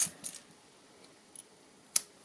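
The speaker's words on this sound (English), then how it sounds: "So I'm going to cut" Scissors snipping narrow paper craft strips for a stamped candle card, a few quick separate cuts close by, with quiet pauses between them.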